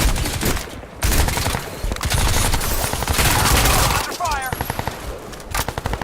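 Sustained automatic gunfire in Crysis 2 Remastered, loud rapid bursts rattling almost without pause, briefly cutting out and then returning as separate quick shots.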